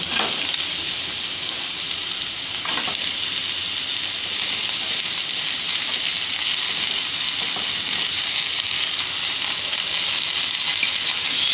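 Cabbage frying in a pan with onion for a sandwich filling, a steady, loud, close sizzle that runs continuously with faint stirring scrapes and no talk.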